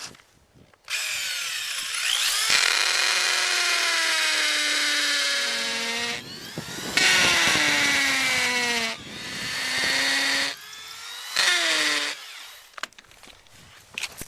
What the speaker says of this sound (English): All right then, let's drill them out.